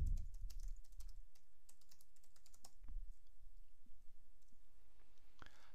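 Keys clack in quick irregular bursts on a computer keyboard as a headline is entered for an article, close and fairly loud with short pauses between runs of strokes.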